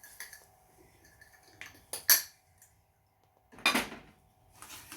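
A spoon mixes devilled egg filling with chili flakes in a dish, giving a few sharp clinks and scrapes against the bowl separated by quiet gaps, the loudest knocks near the middle and end.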